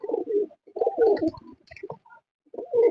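Desi pigeons coo in a pigeon loft, with repeated low, throaty rolling coos in uneven bursts and brief pauses, close by and alone without speech.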